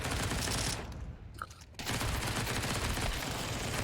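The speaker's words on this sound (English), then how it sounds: "A lot of gunfire coming in." Dense bursts of rapid gunfire crackle almost continuously in a competitive ESEA video game match, pausing briefly before resuming, loud and busy like a firefight.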